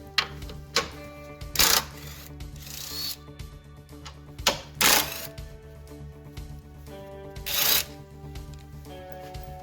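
Mechanical clicking and ratcheting as a tool removes 10 mm bolts near the washer fluid reservoir of a blue 1994 Oldsmobile coupe; three louder bursts stand out over a steady background hum, close to the microphone.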